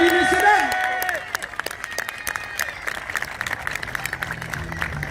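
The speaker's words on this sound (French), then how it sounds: "Et on applaudit, messieurs, dames." An audience at a drift car show applauds, a dense burst of clapping that thins into scattered claps, with crowd noise and a voice over the start.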